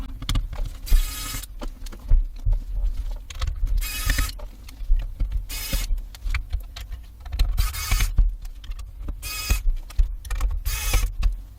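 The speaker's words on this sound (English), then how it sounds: "I'm going to use an extension to make it easier for me to unscrew" Screws being backed out of an MSI Ventus 3X RTX 4060 Ti graphics card with a screwdriver extension: repeated short, close mechanical whirring bursts with ratcheting clicks between them, fairly loud.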